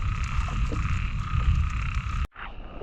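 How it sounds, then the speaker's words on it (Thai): Frogs croak in a dense, continuous chorus outdoors in rainy conditions, a loud near rasping drone that cuts out abruptly for a moment near the end before resuming. "นี่ละกบบ้านเฮาแล้วเนี่ย"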